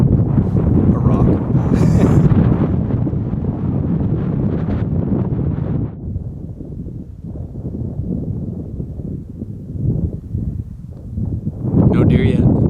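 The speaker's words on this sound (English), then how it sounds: "No deer yet. It's windy and cold." Strong wind roars and buffets the microphone during a Coues deer hunt in Mexico, loud for the first six seconds, easing to a lower rumble, then gusting hard again at the end.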